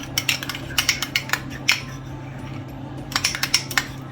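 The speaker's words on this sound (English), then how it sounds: "Mix that up to see if I got enough mayonnaise in there" A metal spoon scrapes and clinks against a bowl, stirring mayonnaise into a shrimp burger mixture. The clicks come in quick, close bursts with a short pause between them, and nobody talks.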